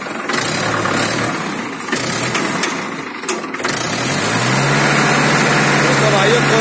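A Mahindra 575 tractor engine revs up from idle and then holds at a higher, steady pitch, loud and close, with voices heard over it at the start.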